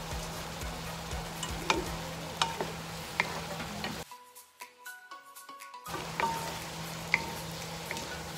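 Shrimp stir-frying in a pan for chop suey, a steady sizzle with scraping stirs and clinks that drops out for a couple of seconds midway before the frying resumes.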